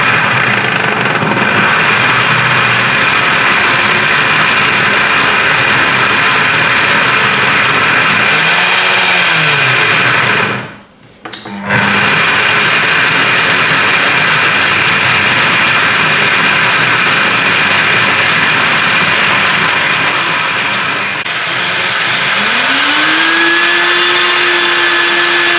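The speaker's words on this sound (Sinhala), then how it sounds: "කිරි එකෙන් මේක බ්ලෙන්ඩර් වෙනවා." A blender whirs steadily as it purées tandoori chicken masala paste with milk, a loud continuous motor drone that cuts out briefly near the middle, then restarts and runs on.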